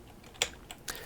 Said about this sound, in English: if we type this in and we start typing in